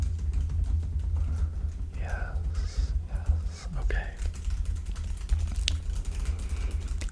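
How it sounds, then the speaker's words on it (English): Fingers type rapidly on a computer keyboard with soft, continuous clicking throughout, while someone speaks softly in a quiet room. "the typing has nothing to do with you"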